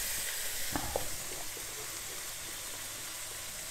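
Cognac evaporates and sizzles in a hot pan of langoustines, a steady close frying hiss with a few faint clinks early on and no talking.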